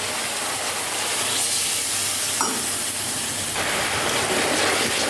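Vinegar hitting a hot pan bursts into a loud, steady steaming sizzle and hiss, close up, with stirring scrapes and a surge in intensity partway through.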